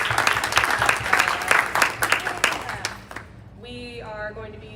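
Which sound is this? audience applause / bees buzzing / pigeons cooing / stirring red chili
audience applause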